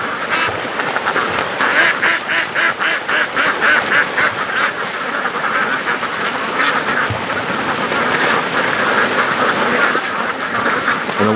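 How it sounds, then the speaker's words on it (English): A chorus of ducks on the water quacks busily and continuously, many birds calling over each other outdoors, fairly loud and close. "Just listen to those ducks. They're really going hard out in the water here."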